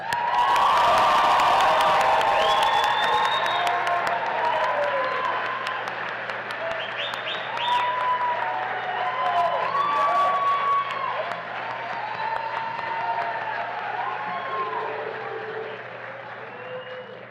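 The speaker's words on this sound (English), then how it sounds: "Let us have one more round of applause for our graduates." A crowd at an M.Ed hooding ceremony gives graduates a long round of applause, with loud dense clapping at first, then whoops, cheers and shouted voices rising over continuous clapping that slowly eases.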